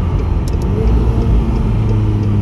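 A McLaren sports car's engine rumbles at idle, a loud, steady low growl close by with no voices over it.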